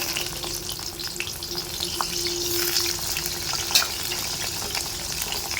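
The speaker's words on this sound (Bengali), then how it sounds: "কড়াইতে একটু তেল গরম করে আলু আর রসুনগুলো ভালো করে লাল লাল করে ভেজে নেব।" Potatoes and whole garlic cloves frying in hot oil in a wok for a spicy chicken curry make a continuous, close, even sizzle with light spitting crackles and no voices.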